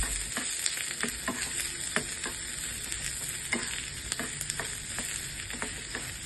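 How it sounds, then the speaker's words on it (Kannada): Finely chopped onion frying in a little oil, with a steady close sizzle broken by frequent scraping stirs, and no voices. "ಸಣ್ಣದಾಗಿ ಈರುಳ್ಳಿನ ಹೆಚ್ಚಿಟ್ಕೊಂಡು ಹಾಕ್ಕೊಂಡು 1 ನಿಮಿಷ ಹಿಂಗೆ ಫ್ರೈ ಮಾಡ್ಕೊಳ್ಳಿ"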